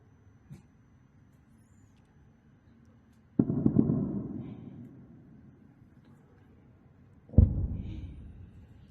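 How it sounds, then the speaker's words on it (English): Two heavy explosions booming in the distance east of Tehran during an attack, each a sharp low thud with a long rumbling decay, spaced about four seconds apart over a quiet background. "Video reportedly with explosions audible east of Tehran"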